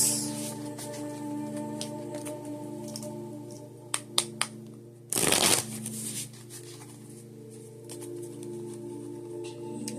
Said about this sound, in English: 10 shuffles.